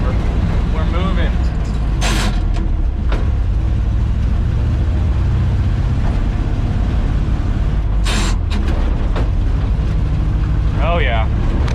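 A 55-year-old farm truck without power steering drives for the first time in 17 years, its engine a loud, close, continuous low rumble, with brief voices and clunks breaking in over it.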